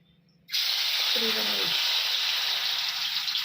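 Alu vadi, colocasia leaf rolls, drop into hot oil and start frying with a sudden loud hiss that stays constant and close. A low voice murmurs briefly underneath.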